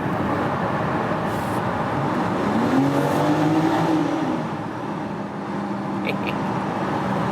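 A 2020 BMW X4 M Competition's engine drones loudly with a rising, revving tone, echoing in a tunnel over a constant roar of road noise.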